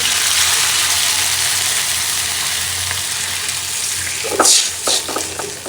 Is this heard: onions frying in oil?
yes